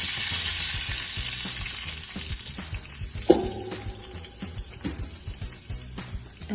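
Olive oil and wine sizzle hard in a pan for a seabass sauce, a loud hiss that fades over a few seconds, then a sharp clank of the pan and softer intermittent crackles, stirring and clinks.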